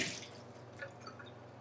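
Thick vegan cream sauce for asparagus and mint pasta pours slowly from a container, giving soft, faint wet drips and squishy plops over a quiet kitchen background.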